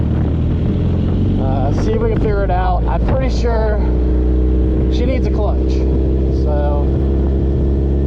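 Suzuki Hayabusa street/strip motorcycle idling at a drag strip, a loud steady low engine drone running throughout while someone talks over it.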